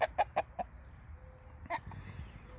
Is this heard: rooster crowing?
yes